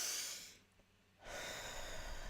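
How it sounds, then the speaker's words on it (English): A slow, deep breath taken as a calming de-stress exercise: a soft inhale, a brief quiet pause, then a long steady exhale, close to the microphone and quiet. "Just breathe."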